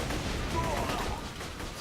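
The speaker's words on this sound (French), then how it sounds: "C'est quoi qui me tire dessus depuis tout à l'heure?" Enemy gunfire in the shooter game Borderlands 2, a dense, rumbling stream of shots and blasts filling the mix at moderate loudness, steady throughout.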